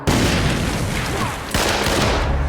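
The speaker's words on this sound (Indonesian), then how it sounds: "Suara ledakan itu terdengar oleh Elsa yang baru sampai di rumah Irmgard" A sustained, roaring blast of film explosion noise with a sudden second burst partway through, loud and rumbling like heavy explosions.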